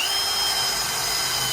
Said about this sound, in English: I drill a hole in the center of it